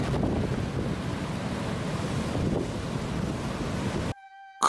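Loud, steady surf with waves washing in, a broad roaring wash that swells and eases for about four seconds before cutting off abruptly.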